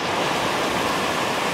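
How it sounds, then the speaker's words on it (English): Ocean waves washing up on a beach, a constant close roar of surf with no voices over it. "I like the sound of the waves."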